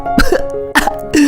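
A few sharp, close coughs in quick succession, harsh and loud, with no talking.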